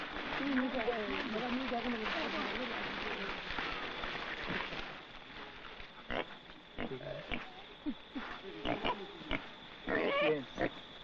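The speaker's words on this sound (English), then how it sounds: "This pig has a while to live yet." Pig grunts and oinks from a village pig in 1970s Papua New Guinea, kept for a ceremonial feast, heard alongside chattering voices and crowd noise, then in sharper, intermittent bursts.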